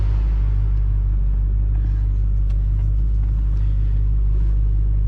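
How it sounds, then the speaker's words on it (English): Inside a 2020 Dodge Challenger Scat Pack Widebody, the exhaust gives a steady, heavy low rumble that fills the cabin evenly, with no talking. "we're just gonna hear how the exhaust sounds from inside the car."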